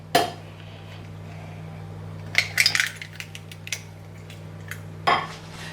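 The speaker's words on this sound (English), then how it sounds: "we are going to crack all 4 eggs into a bowl" Four eggs cracked one after another into a bowl, giving sharp, close clinks of shell against the rim with short pauses between, over a quiet kitchen hum.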